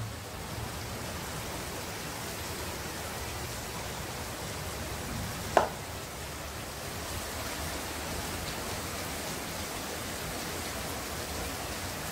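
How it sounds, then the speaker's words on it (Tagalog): Steady, heavy rainfall hisses evenly throughout, with one brief sharp knock partway through. "malakas po yung ulan."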